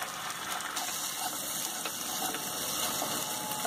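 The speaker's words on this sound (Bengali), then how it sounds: "একটু জল দিয়ে দিতে হবে।" Water pours into a spicy gravy of masala cooked down with almond, cashew and poppy-seed paste for a whole-chicken murgh musallam, making a steady close gushing hiss for a few seconds that cuts off abruptly, with no talking.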